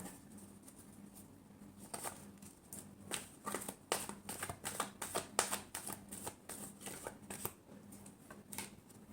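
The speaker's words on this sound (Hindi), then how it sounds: "last shuffle" Tarot cards being shuffled by hand, a soft, close run of rapid riffling flicks and taps repeating irregularly for several seconds with no talking.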